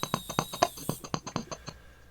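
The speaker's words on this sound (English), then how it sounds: "So I'll just rub my finger on the tape," A finger rubbing along a strip of tape gives a series of short, scratchy taps and rustles, roughly evenly spaced and fairly close, with no talking.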